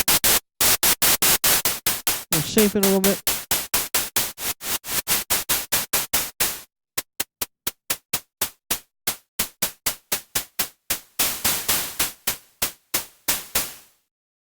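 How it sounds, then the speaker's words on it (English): Repeated bursts of harsh synthesized white noise, gated on and off in a steady rhythm, with a brief tonal blip early on and a short spoken remark. "So I'm gonna get white noise here."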